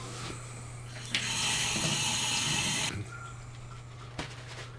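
Celery gets washed under a running kitchen tap, a near, moderately loud gush of water lasting nearly two seconds over a low steady hum, with quiet handling sounds before and after.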